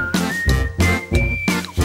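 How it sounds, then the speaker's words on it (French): Someone whistles a high, fairly steady tune over a bouncy children's song, with rhythmic thumping beats underneath, loud and close. "je sifflerai après ça"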